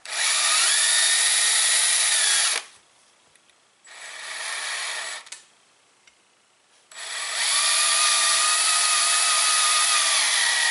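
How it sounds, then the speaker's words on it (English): Power drill boring into a carbon-plugged piston of a 1996 Geo Prizm engine, a loud high grinding whine in three bursts separated by quieter pauses, close and alone. "It's like I'm drilling into a piston"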